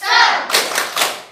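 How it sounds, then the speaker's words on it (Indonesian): Children in a classroom do a rhythmic spirit clap, with loud, close bursts of hands slapping together in a quick patterned beat, each burst carrying a thumping accent. "Yuk, tepuk semangat dulu."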